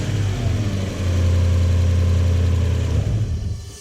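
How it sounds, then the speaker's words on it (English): Toyota 1UZ-FE V8 engine cranking briefly, then catching and settling into a steady, loud idle with a deep, even hum that runs for a few seconds before easing off. "Start the engine."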